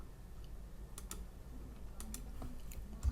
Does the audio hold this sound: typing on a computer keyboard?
yes